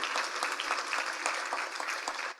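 Round of applause from a State of the City luncheon crowd thanking the caterers, a brisk, fairly distant wash of many clapping hands that holds steady and then tapers off at the end.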